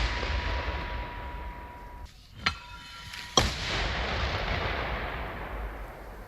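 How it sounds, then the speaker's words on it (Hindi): Mortar rounds are fired during the war in Ukraine: two sharp, distant reports a second apart punch through a steady outdoor rumble. "मोर्टार जो है वो किस तरीके से दागे जा रहे हैं। एक बार ये आवाजें सुनिए।"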